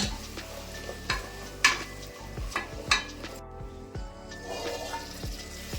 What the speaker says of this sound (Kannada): ಒಗ್ಗರಣೆಯಲ್ಲೇ ನುಗ್ಗೆಕಾಯಿ ಸ್ವಲ್ಪ 2 ನಿಮಿಷ ಚೆನ್ನಾಗಿ ಬಾಡ್ಸ್ಕೊಂಡಿದ್ದೀನಿ